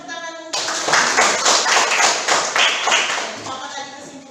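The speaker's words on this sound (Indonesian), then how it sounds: "Berikan tepuk tangan untuk" Students in a classroom break into applause, a burst of brisk clapping that swells, holds for about three seconds, then fades as a voice resumes.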